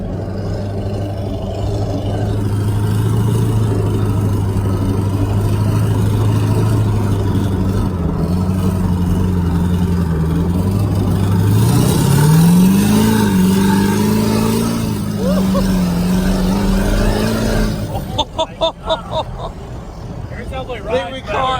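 Truck engine revving and accelerating from inside the cab, a loud steady drone that climbs in pitch through the gears, with rushing road and wind noise.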